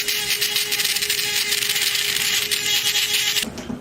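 A small electric buffing tool grinds a thickened toenail during a foot-care treatment, making a steady, loud, hissing whir with a constant motor whine that stops abruptly near the end.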